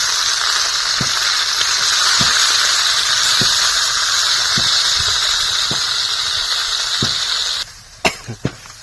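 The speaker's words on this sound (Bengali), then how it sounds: "মাছগুলো ভেজে নিচ্ছি এবার" Fish frying in a pan over a straw-fired clay stove, a loud continuous sizzle with steady hiss and faint periodic pops, cutting off near the end to a few sharp clacks.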